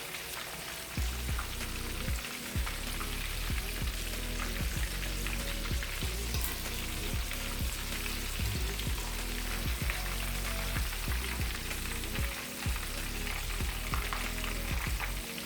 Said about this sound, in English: Let it fry for about 15 minutes.